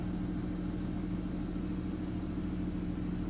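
A pickup truck engine idles steadily with a low, even rumble, close and continuous, with no voices.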